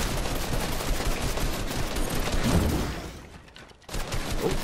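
Video game shooter gunfire crackles in dense, rapid bursts, loud and continuous, dipping briefly near the end before resuming.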